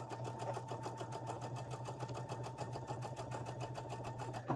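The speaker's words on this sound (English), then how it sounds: "I'm trying to like chain sew these triangles on the roof" Sewing machine chain piecing fabric triangles, running in a steady, fast, even stitching rhythm throughout at low volume, with no talking.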